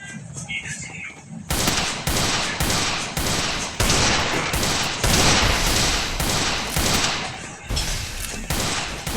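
Rapid video-game gunfire cracks in a dense series of loud, evenly spaced shots during headshot play, continuing almost without pause after a short quieter lead-in.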